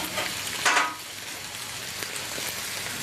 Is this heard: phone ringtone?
no